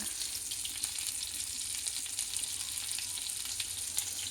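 Fenugreek and cumin seeds, with turmeric and asafoetida, sizzle lightly in hot oil in a pan for a radish chutney, a soft steady crackle with faint stirring and no talking.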